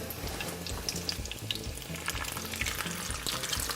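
Gluten-free beef taquitos fry in hot oil in a pan with a steady, dense crackling sizzle, close and continuous, with no talking.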